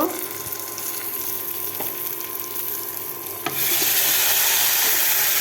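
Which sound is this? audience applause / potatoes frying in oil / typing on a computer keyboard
potatoes frying in oil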